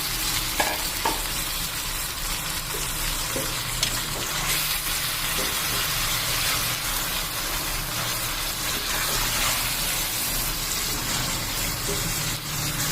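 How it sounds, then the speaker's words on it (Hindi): Beef mince fries with ginger, garlic, onion and cumin for a khara masala keema, giving a loud, steady, continuous sizzle with faint stirring scrapes and no voices. "अब हमें करनी है कीमे की भुनाई अदरक लहसुन और प्याज और जीरे के साथ"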